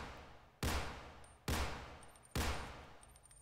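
Three evenly spaced, loud gunshots from a retro PS1-style horror game, each a sharp blast with a short decaying tail, fired at a measured pace without talking.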